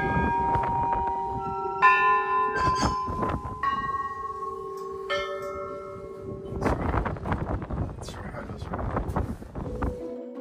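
Church bells ring at a monastery in Anfeh, Lebanon, with several clear metallic strikes whose tones hang and overlap, recorded outdoors with some wind buffeting and a voice talking in places.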